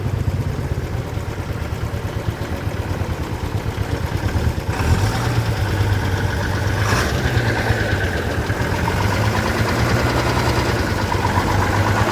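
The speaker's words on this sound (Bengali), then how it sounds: "আমার সামনে তৌশিফ বাইক চালাচ্ছে এবং পেছনে সৃঞ্জয় বসে আছে।" A motorcycle engine drones steadily while riding a mountain road in Sikkim, with rough low throbbing and mild shifts in pitch, close and continuous.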